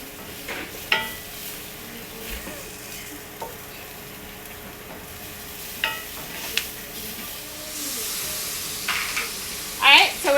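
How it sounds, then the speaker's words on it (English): Oxtail sizzles in a hot pan as liquid goes in to deglaze the browned bottom, a steady close frying hiss broken by occasional stirring scrapes and utensil clinks, with a brief louder burst near the end. "So then we can deglaze it with some liquid and have our oxtail"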